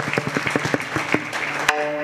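An audience at a Marathi kirtan gives scattered, rhythmic claps for about two seconds at moderate volume, ending in a brief sustained tone.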